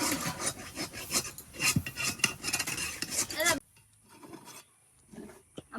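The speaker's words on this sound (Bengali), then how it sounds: "তো টক শাকটা এখনো মা নাড়াচাড়া করছে" A mother stirs sour greens (tok shak) in a pot with a utensil, giving a run of close scraping, rasping strokes that stops abruptly partway through and leaves only faint scattered scrapes.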